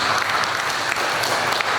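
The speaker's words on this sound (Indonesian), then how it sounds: "Mari kita beri tepuk tangan bagi mereka." Guests at a church wedding ceremony applaud the bride and groom after the ring exchange, a dense, steady wash of many hands clapping together throughout, close and fairly loud.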